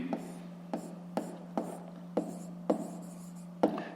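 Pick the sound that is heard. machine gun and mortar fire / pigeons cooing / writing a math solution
writing a math solution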